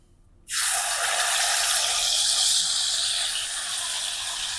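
After a brief quiet moment, water suddenly pours into a pan of spice masala for chicken curry with a loud, bright, sustained rushing hiss that continues steadily to the end.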